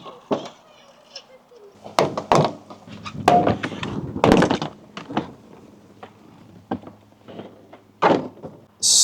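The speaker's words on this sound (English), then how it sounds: "pull out the clips and take off the door panel" Rear door panel clips on an FJ Cruiser pulled free and the panel lifted off, giving a series of sharp plastic pops and thunks at irregular intervals, close by, with faint talk between.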